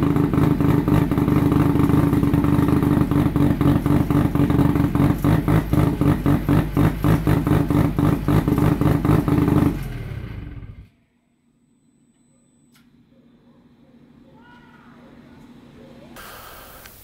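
A Mazda 13B-REW rotary engine on a Project 818 SRX fires up for the first time, running loud and buzzy with a steady rapid pulsing for about ten seconds before cutting off abruptly, leaving quiet background noise.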